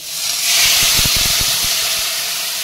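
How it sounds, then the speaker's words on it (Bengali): Water poured into a hot pan of Bengali fish curry with vegetables, salt and turmeric, setting off a loud, steady steamy sizzle and hiss with a few bubbling pops underneath, lasting without any voices. "এইবার আমি জল দিয়ে দেবো"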